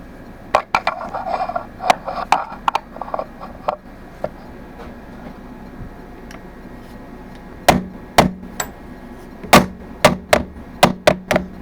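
A hammer taps a metal block into place while it is being squared up, giving sharp, bright metallic blows, first in a scattered light run and then in heavier, evenly spaced strikes.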